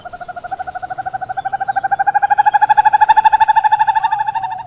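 A barn owl gives a long, steady run of rapid, rhythmic rasping pulses, loud and close, swelling in the middle and holding to the end with no other sound around it.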